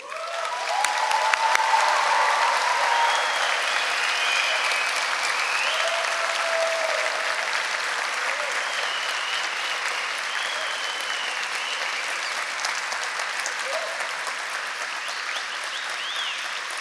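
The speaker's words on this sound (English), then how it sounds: "give our class of 2024 a round of applause" A graduation ceremony audience applauds the class of 2024 in a large venue, sustained dense clapping that swells early and holds steady for the full stretch, with a few whistles or cheers faint in the mix.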